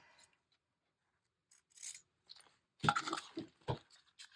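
Scissors snipping through ribbon and fabric at close range, a few quiet crisp cuts in short bursts after near silence, with no talking.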